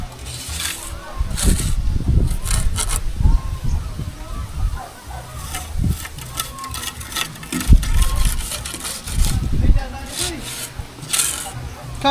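A hand saw cutting through wood in a home setting, rough rasping strokes repeating in bursts with pauses, close and fairly loud, mixed with household noise and voices.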